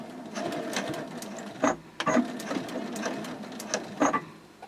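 A sewing machine stitches fabric around a gusset, running in a steady close whir broken by a few sharp louder bursts, with no talking.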